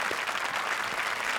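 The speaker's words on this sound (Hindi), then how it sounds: "जोरदार तालियां हमारे शरारती जजेस के लिए।" Studio audience on the Hindi comedy show Comedy Circus applauding for the judges: a steady, dense wash of clapping filling the whole short stretch, close and even, with no talk over it.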